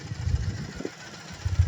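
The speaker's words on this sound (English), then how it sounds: "let's hear the bike run, or rev. 900cc power plant twin." A 2016 Triumph Bonneville T100 900cc twin motorcycle engine running, a low steady rumbling idle with uneven pulsing throb, close by and alone.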